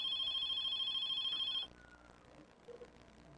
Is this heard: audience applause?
no